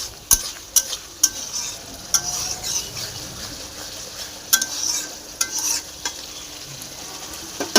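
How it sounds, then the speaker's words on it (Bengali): Spice paste being stir-fried in a pan for a Bengali dish with green and dried chilies, a soft steady sizzle broken by sharp spoon scrapes and clinks against the pan at irregular intervals, close and with no voices. "চলো এই দেখো মশলাটাকে ভালো করে কষতে হবে"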